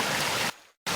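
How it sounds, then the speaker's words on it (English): A babbling brook in the Cook Islands, its water tumbling over rocks in a dense, even rush and hiss that cuts out abruptly partway through, falls to near silence, then snaps back just as loud. "the babbling part comes from the impact of the water on the rocks"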